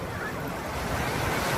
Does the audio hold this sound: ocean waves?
yes